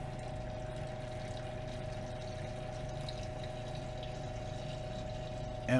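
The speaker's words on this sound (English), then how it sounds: "So we're just going to pour off the clarified liquid here" Clarified waste liquid from gold recovery pours from a stock pot into a 5-gallon bucket, a steady continuous watery rush close by with no talk.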